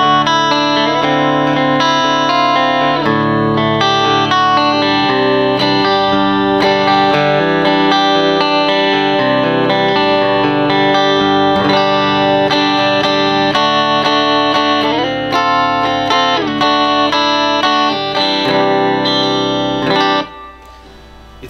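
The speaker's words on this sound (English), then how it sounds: "This is the clean channel on the amp without anything on it, really, except for a little bit of reverb." Electric guitar played through a Roland JC-40 amp on its clean channel with a touch of reverb, bright chiming notes and strummed chords ringing continuously for about twenty seconds before fading.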